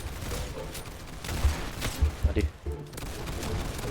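Gunfire in the Roblox video game, a burst of several sharp shots clustered near the middle, ringing out over steady game noise and background chatter.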